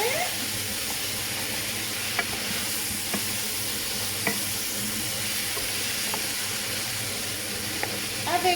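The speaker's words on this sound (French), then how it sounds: "une grosse cuillère de tapenade. Je vais mélanger." A spoon scrapes and stirs tapenade into other ingredients in a bowl, soft irregular mixing noises with occasional sharp clinks against the side, close and fairly quiet.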